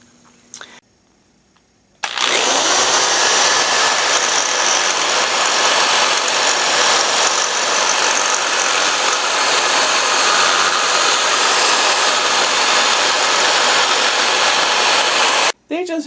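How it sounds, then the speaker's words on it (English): A power drill boring into the inside of a metal part, a loud steady whining buzz that starts abruptly after a quiet moment and runs continuously for about thirteen seconds before cutting off. "using a drill to drill the inside of this"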